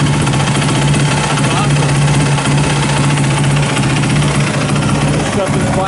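A 2006 Yamaha WR450F dirt bike idling up close with a Trail Tech cooling fan running, a loud constant engine drone with a steady low hum throughout, with a brief spoken remark over it.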